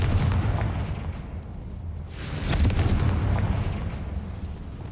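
Confringo spell blast in Hogwarts Legacy: a booming explosion bursts in around the two-second mark and rolls on for over a second, set against steady low game rumble, with no voices.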